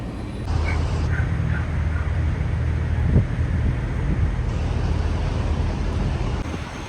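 A diesel truck idling through a DPF regeneration cycle gives a steady low engine rumble with a faint constant whine, heard from a short distance outdoors with some wind noise and no talking.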